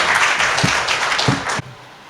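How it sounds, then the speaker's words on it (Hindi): An audience at a city political conference bursts into loud clapping to welcome a speaker to the stage, a sustained round of applause that cuts off abruptly. "जनाब जावेद कुरैशी साहब, ज़ोरदार तालियों से इस्तकबाल कर दीजिए साहब।"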